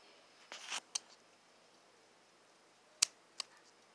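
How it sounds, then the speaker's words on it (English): A piece of tape being cut with scissors: a short rustle, a crisp snip, then two more sharp clicks after a quiet pause, close and alone in a quiet room. "all you have to do is grab the piece of tape, and just cut it"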